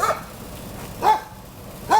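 Dogs bark outdoors near a Cadillac Escalade repair, a few separate barks spaced out at a moderate distance with quiet between them and no talk.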